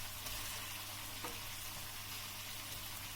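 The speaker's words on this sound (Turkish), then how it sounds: "İçinde biraz kızartacağım bu şekilde." Steady, dense sizzling of içli köfte filling with meat frying in a pan, continuous and fairly close, with no voices.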